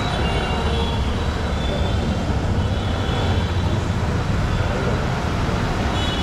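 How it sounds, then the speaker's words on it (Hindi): An Ahmedabad metro train runs steadily, producing a loud continuous rumble and hiss with no breaks, heard from inside or very near the carriage. "चालू है मेट्रो"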